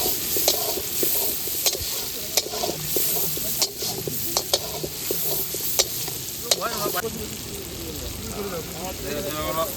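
Chicken cooking in a pan with tomato and green chilli, a close, constant sizzle broken by repeated sharp scrapes and clacks of a spatula stirring against the pan.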